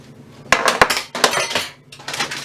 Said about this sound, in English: The knife has gone down the side.